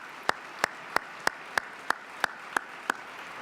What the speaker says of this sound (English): Another round of applause for Nancy on that.